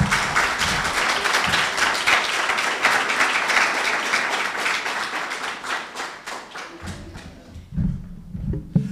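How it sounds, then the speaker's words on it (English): Applause and snapping from an audience at a Juneteenth spoken-word program, a dense wash of claps that thins out near the end, leaving scattered claps and low murmuring. "all of your claps, applauses, and snaps are free tonight"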